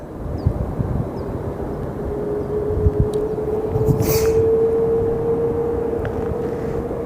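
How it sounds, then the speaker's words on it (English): Boeing 777-200 airliner engines roar steadily at Sky Harbor Airport, a loud continuous rumble with a rising whine that swells toward the middle and holds, heard up close outdoors with no talking. "I believe the engine of this 777 is the size of a 737 fuselage from what I'm hearing."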